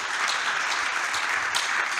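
A church congregation applauds and cheers in praise, a dense continuous wash of clapping with raised voices throughout, steady and full without a break.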